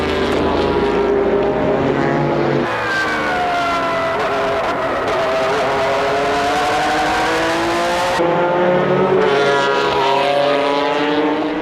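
Honda NSX GT race cars weighing over 1100 kilos scream past at high speed, loud engines rising and falling in pitch as several machines pass close by in quick succession, a continuous high-revving roar throughout.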